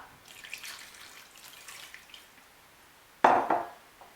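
Water poured into a cooking pot for soup with meat, a few soft splashes and trickles, then a louder burst of pouring near the end.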